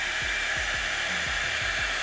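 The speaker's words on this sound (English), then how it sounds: "you're pulling the hair to help it get straight and it's blow drying at the same time." A blow dryer brush runs steadily while pulling and straightening hair, a close, constant airy whir with faint brushing strokes repeating underneath, no voices.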